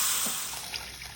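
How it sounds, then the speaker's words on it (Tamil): Water pours steadily into a hot tempering pan of mustard seeds, green chillies and curry leaves, a broad continuous hiss and trickle that fades slightly over its short length, with no voices. "இப்போ இந்த தண்ணி ஊற்றுங்கோ"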